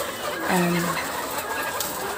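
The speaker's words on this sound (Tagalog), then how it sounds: "ang aming mga manok guys ay nagkakagulo" Chickens cluck and squawk in an agitated commotion inside a backyard coop, several birds calling over one another at close range against a busy, noisy background.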